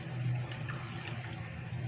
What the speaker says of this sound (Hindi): आँच को हम स्लो करके इसमें थोड़ा सा पानी ऐड करेंगे